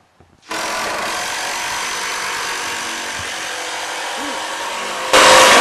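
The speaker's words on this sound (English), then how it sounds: "as he's finishing up running them screws in the rest of that little frame" A power drill drives screws into the wooden frame of a goat shed, with a loud continuous motor whine for about five seconds and a louder surge at the end.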